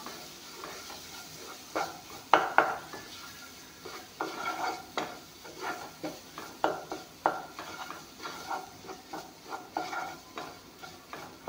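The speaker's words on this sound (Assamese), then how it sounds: "এতিয়া এইখিনি অলপমান ভাজি ল'ম।" Scraping and stirring in a pan, with repeated clinks of a utensil over a soft sizzle as spices, including dried chili powder, fry.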